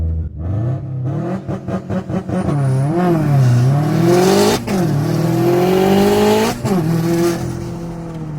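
A supercharged BMW E92 M3 launches hard, its engine revving up in rapid stabs, bogging briefly and then pulling loud and sustained as it climbs through the revs, with tire noise riding over the close, continuous roar.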